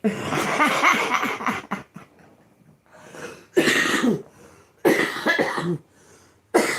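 Several harsh coughing fits come in bursts separated by short pauses, close and fairly loud, mixed with laugh-like breathy sounds.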